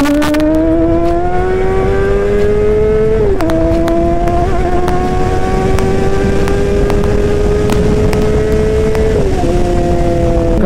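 Honda CBR 600rr motorcycle engine droning loudly and steadily while riding, with rising pitch through the gears and two brief dips where revs drop at shifts, no voices.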